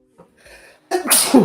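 A single sharp, loud sneeze bursts out close by after a brief quiet stretch with a faint sniff and intake of breath.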